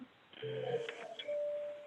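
Telephone tones from an unmuted phone on a conference call: a short run of electronic beeps and dialing-style tones with a sustained steady tone at the end, faint and thin over quiet line hiss.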